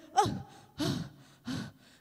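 A storyteller's voice imitates heavy panting while telling of a man climbing a tall tree, three loud, breathy gasping breaths spaced evenly, close and alone.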